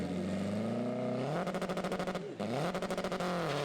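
Front-wheel-drive drag racers, including a TDI-powered Civic, launch hard from the lights at Santa Pod Raceway, engines climbing in pitch and roaring loud and close with a rapid stutter of gearshift or limiter pulses midway.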